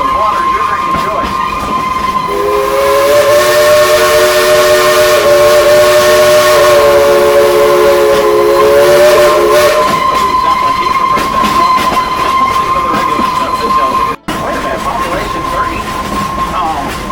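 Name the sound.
steam train whistle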